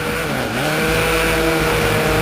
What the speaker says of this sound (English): I quickly opened the throttle, and as I powered through the lower gears, the roar of the engines was like nothing I'd ever experienced